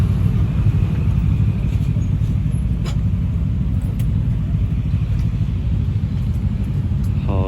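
A Harley-Davidson Sportster motorcycle engine running, a loud, steady, throbbing low rumble that holds evenly from start to finish with no voices over it.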